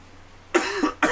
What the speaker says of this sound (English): I apologize for my coughing, but it's going to continue throughout the show.